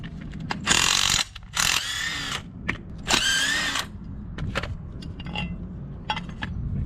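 Ratchet wrench loosening a motor mount bolt on a Subaru Impreza 2.5RS GC8 during a solid mount install, giving several close, loud bursts of rapid clicking separated by pauses and small metallic clinks.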